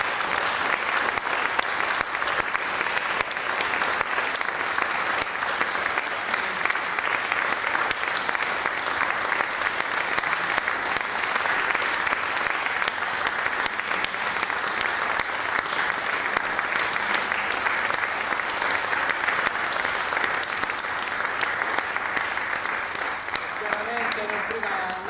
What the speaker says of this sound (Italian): a loro facciamo veramente adesso un bellissimo applauso.